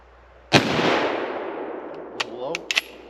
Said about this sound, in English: I'm just going to take some offhand shots at the plates.